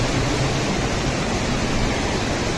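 Water rushes down Jogini waterfall near Manali in a constant, loud, dense roar heard from close by, with no talk.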